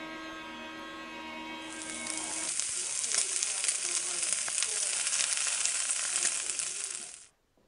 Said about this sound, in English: So I fried up some of our double smoked bacon